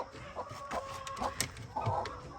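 Three baby chicks chirping and cheeping softly in short peeps, close by but faint over a low background hum, with no talking.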